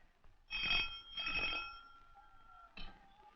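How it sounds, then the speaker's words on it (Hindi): An old telephone bell in a 1963 Bollywood film rings in two close bursts, followed after a pause by a third brief ring, clear and bright against near silence. "यूर हाइनेस इलेक्शन कमिश्नर का फोन"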